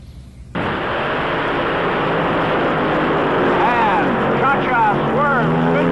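A drag racing car spins its wheels at a national event. A loud, sustained engine and tyre roar starts abruptly and holds steady, and rising, whining tones sweep through it toward the end.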